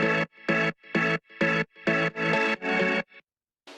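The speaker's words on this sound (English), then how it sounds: "these two pianos and organs just to kind of make it a little more interesting for the second part of the drop" Two pianos and organs in the second part of an EDM drop, playing loud, punchy chord stabs in a tight rhythmic pattern with short gaps, then a pause before one final hit.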